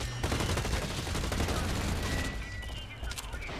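Rapid automatic gunfire in the online shooter Blacklight: Retribution, a dense burst of repeated shots lasting a few seconds, moderately quiet and mixed with game noise.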